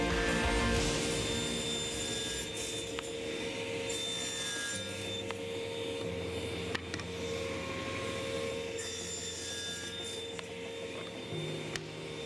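A saw cuts through a wooden board for an anvil stand, a steady close rasping stroke that continues with little variation for about twelve seconds, with faint tool whine underneath.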